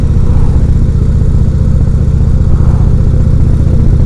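An air- and oil-cooled 2016 Indian Roadmaster motorcycle is ridden at steady speed, its engine giving a loud, even, close-up rumble with a constant pulsing throb and no break, and no talking.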